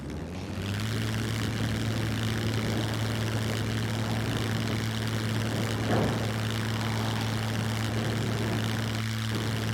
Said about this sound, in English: Okay, so now on the ground, I can still control the plane.